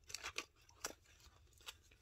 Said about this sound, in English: The old fashioned zipper.